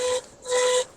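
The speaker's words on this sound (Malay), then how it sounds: "Itu bukan bunyi alarm tau. Tu bunyi gas tengah bergerak." Refrigerant gas flows through a running recovery machine, giving a steady, faint whistling hiss with a thin tonal whine that comes in two short bursts separated by a brief dip.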